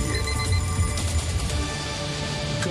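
An alarm-clock style jingle opens a morning radio segment, a steady ringing tone with musical backing, moderately loud and continuous with no talk over it.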